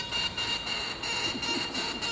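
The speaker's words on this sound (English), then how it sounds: "If you play just the reed, it sounds like this." A bare oboe reed blown alone gives a thin, buzzy, nasal squawk, pulsing in short bursts with no clear pitch.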